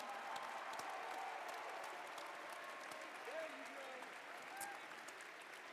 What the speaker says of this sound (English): let's go ahead and give another big round of applause for our generous sponsors